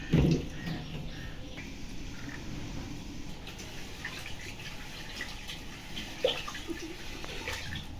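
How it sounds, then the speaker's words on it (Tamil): Water sloshes and splashes steadily as lentils are swirled and rinsed in a bowl, with a few louder splashes and light drips close by. "இப்போ 2 தண்ணி போல் வாஷ் பண்ணி எடுத்துக்கலாம்"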